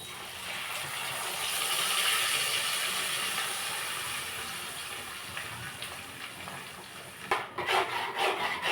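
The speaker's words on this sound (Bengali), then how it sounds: "এইবার যে মশলাটা আমি বানিয়ে রেখেছিলাম মিক্সারে দিয়ে, সেটা আমি দিয়ে দিলাম" Ground spice paste goes into frying ginger and garlic in a pan, giving a continuous soft sizzle and hiss, then a few louder scraping stirs and clatters near the end.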